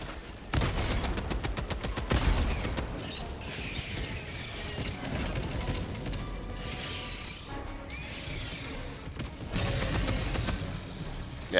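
A railgun fires in the Helldivers 2 video game during a battle against bugs: sharp, loud discharges come in clusters among a dense mix of other gunfire, crashes and shrill creature cries, with no talking.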